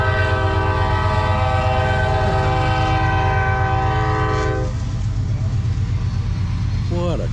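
A loud, sustained train-style air horn on a vehicle at a Jeep car show blares close by for several seconds, then cuts off as engine rumble continues beneath.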